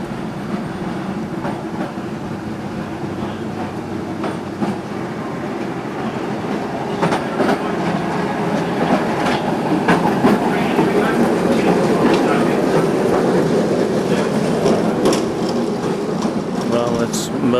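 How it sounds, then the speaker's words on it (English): A Melbourne tram running on its rails, a continuous close rumble with rhythmic clickety-clack of wheels over joints and occasional faint squeals, steady throughout. "Melbourne tram for sure."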